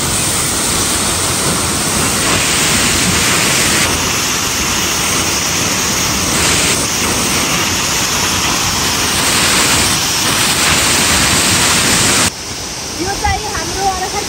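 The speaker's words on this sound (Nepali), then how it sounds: "जिल्लाको अमिलेमा पर्ने झरना हो" A waterfall at Amile in Arghakhanchi district roars as a loud, dense, unbroken rush of falling water heard up close, and the sound drops slightly in the final seconds.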